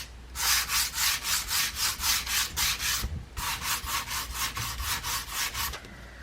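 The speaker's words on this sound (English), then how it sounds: "I'm just going to use a bit of a sander just to smooth it out a little bit" An electric sander smooths a wooden farmhouse Christmas sign in loud, rhythmic rasping strokes, with a brief pause midway before the strokes resume.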